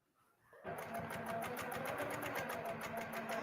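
A sewing machine runs fast and steady during free motion quilting, its rapid mechanical stitching starting abruptly after a quiet moment and continuing close and loud.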